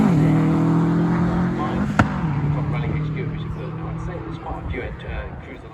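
A Mark II Ford Escort rally car at a stage rally: its engine drone sounds close, then fades as it pulls away, with a sharp crack midway. A commentator talks throughout.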